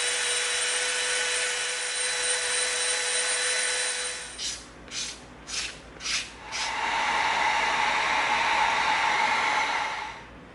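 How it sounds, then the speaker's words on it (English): A Dremel rotary tool runs as a steady, close whine while it rounds off the edge of EVA foam. A few short pulsing bursts come partway through, then it continues, with no talking. "then we're going to round off the edge with a Dremel"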